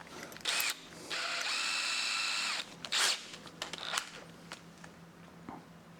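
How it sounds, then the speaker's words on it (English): A power drill whirs in short bursts in a car-tuning workshop, one sustained run of about a second and a half between brief clicks and handling knocks. "Drilling time."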